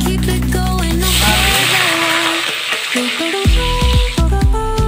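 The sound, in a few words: frying cumin seeds and bay leaves in oil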